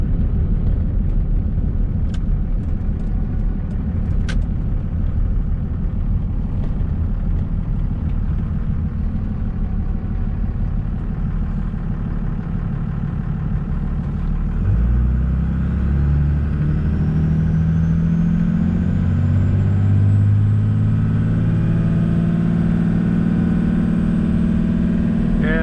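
24v Cummins truck engine with a 47RE automatic transmission, a steady low idle rumble that climbs into a rising rev about halfway through and holds at higher pitch during a shift test.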